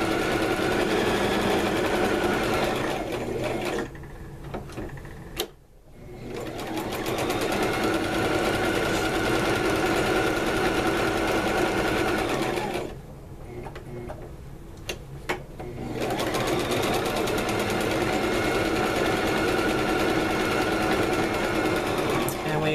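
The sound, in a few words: sewing machine stitching a quilt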